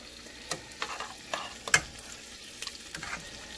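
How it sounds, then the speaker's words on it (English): A spoon stirs onion, garlic and plum tomato sauce in a pot, giving a series of soft scraping and wet clinking strokes at an irregular pace, one sharper knock midway, over a low sizzle. "You mix it up good."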